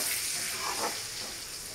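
Cardamom pods and spices frying in oil in a pan for a Bengali cauliflower, egg and potato curry, giving a steady, close sizzle that runs through the whole short moment with no talking.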